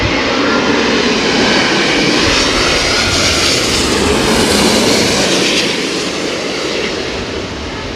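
An Air India jet lands in a crosswind at London Heathrow, a loud, steady engine roar close by that swells and then slowly fades, with no voices.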